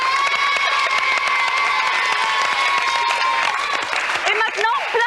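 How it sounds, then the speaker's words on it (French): A French children's TV studio audience applauds and cheers, with sustained clapping and shouts mixed with a tonal musical line and crowd noise, steady and loud throughout. "Et on peut encore les applaudir"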